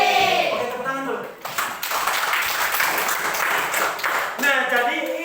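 A school class applauds during a lesson on computational thinking; a voice is heard first, then a short burst of lively clapping from students, and the teacher's voice returns at the end.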